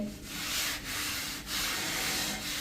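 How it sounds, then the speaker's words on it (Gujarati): A sponge scrubs salt against a clay drinking-water pot, producing a steady, loud, gritty rubbing in long back-and-forth strokes with brief dips between them. "સ્પંજ હોય ને એ જ ભાગથી તમારે ગોરો ઘસવાનો છે મીઠાથી"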